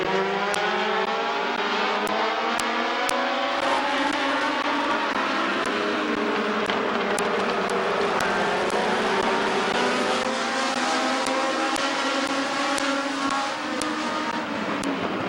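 Race cars lap the Midvale Speedway oval, their engines droning and rising and falling in pitch as they pass, a continuous loud pack roar heard from trackside.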